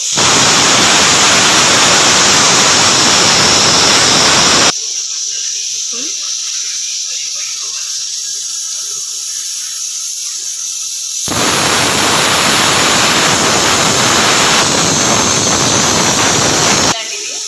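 Loud steam whistle of a pressure cooker cooking mutton, hissing close up for several seconds, dropping away to near quiet, then blasting again just as strongly for several more seconds.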